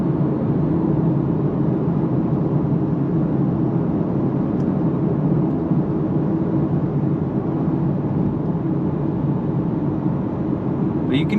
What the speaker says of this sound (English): But you can hear that road noise.